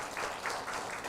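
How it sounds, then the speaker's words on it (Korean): Church congregation at a Sunday worship service clapping briefly in congratulation, a soft, muffled patter of applause from a moderately distant crowd. "여러분 축하의 마음으로 박수해 주시기 바랍니다"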